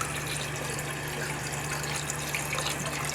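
Green dye water is poured into a toilet tank, giving a steady, faint rush and trickle of liquid that continues evenly with no break.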